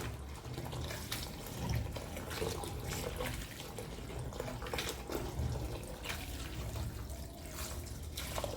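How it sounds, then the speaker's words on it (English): Hot water runs steadily from a tap in a Jamaican home, a continuous splashing stream that holds at an even level throughout with no voices. "You may turn on hot water."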